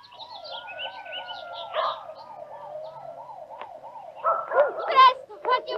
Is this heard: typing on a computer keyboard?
no